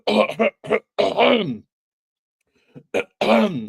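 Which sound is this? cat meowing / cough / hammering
cough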